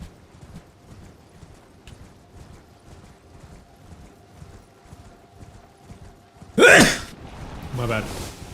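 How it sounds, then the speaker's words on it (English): A horse's hooves clip-clop in the Elden Ring video game, a faint, steady trotting rhythm through most of the stretch, ending with a couple of loud sharp vocal bursts such as gasps or a sneeze. "Oh, there's a horse in this game."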